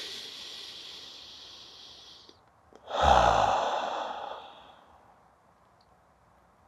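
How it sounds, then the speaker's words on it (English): A single deep breath sounds up close, first a slow quiet inhale, then a louder, long, airy exhale that fades away into near silence. "just take a deep breath with me."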